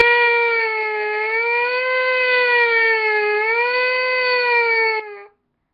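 A trumpet mouthpiece buzzes alone in a sustained, rising and falling wail that imitates a fire truck siren, holding steady for about five seconds before cutting off sharply.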